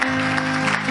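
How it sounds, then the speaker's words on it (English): A Pentecostal church congregation gives a dense burst of hand clapping in praise during a Sunday service. The clapping blends into a loud, continuous wash, with a sustained tone droning underneath. "Give the Lord another hand clap of praise."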